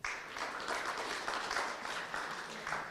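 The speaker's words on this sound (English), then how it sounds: "Please give a round of applause to Irina." An audience at a Pecha Kucha presentation event claps steadily in a dense, even wash of applause that holds at a similar level for a few seconds, with no voices rising above it.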